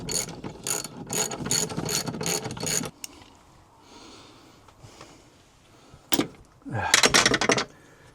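Fast, loud ratchet wrench clicks tighten swivel seat bolts in a Ford Transit Custom van, a steady burst for about three seconds, then quieter handling noises and another short ratcheting flurry near the end.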